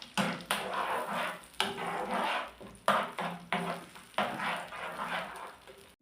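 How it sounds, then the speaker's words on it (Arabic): Garlic and grated tomato sizzle in a pan while a utensil stirs and scrapes through them in repeated bursts, close and moderately loud, with no talking. "حطيت طماطم مرحيه نزيد نحركهم مليح مع بعضاهم"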